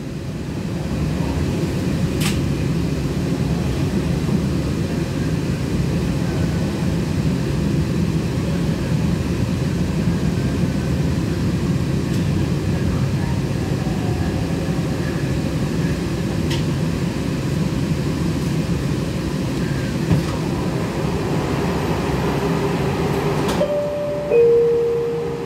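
An MBTA Green Line CAF Type 9 tram runs outbound on the B Branch toward Boston College with a steady low rumble and hum throughout, joined by a brief rising chime near the end.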